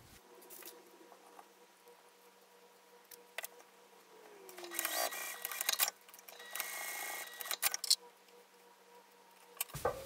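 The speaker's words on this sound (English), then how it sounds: "I'm just back stitching to secure mine." A sewing machine back stitching through wallet card slots, heard as a few bursts of quick, close mechanical stitching between quiet pauses and small handling clicks.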